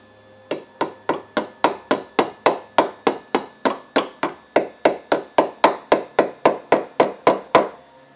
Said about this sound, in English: It's hammer time.